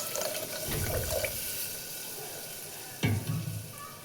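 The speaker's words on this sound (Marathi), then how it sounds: "आणि थोडंसं पाणी पण घालत आहे मी त्याच्यासाठी" A short splash of water pours into a pan of dal, followed by quiet sizzling; a second brief pour arrives near the end.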